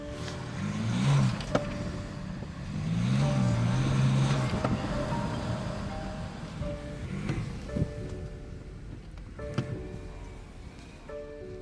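A BMW X5 engine hums and shifts as the SUV rolls slowly forward and back, with rumbling tyres and a few clicks and thumps, no one speaking.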